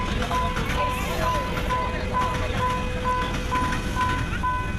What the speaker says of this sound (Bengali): আর এই যে ফাইনালি ট্রেন চলে আসলো।